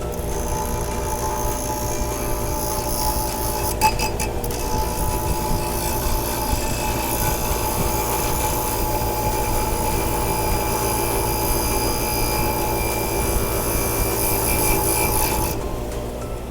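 A piece of metal pressed against a fast-spinning brake rotor gives a steady, loud, harsh grinding roar that holds without a break for the whole stretch.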